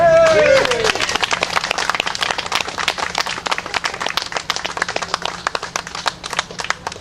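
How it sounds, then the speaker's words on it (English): Rally crowd in Albany applauds a speaker. Many hands clap in a crisp, steady patter that carries on for several seconds, with a brief voice at the very start. "Please, big round of applause for Larry Wittner."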